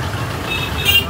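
Traffic jam on a Mumbai road with cars, trucks and buses, a steady low engine rumble with short horn toots rising near the end.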